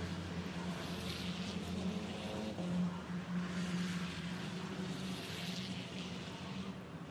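GT4 race cars circulating at the Most Autodrome, a distant, steady engine drone that rises and falls gently as the cars pass, faint and without clear talk.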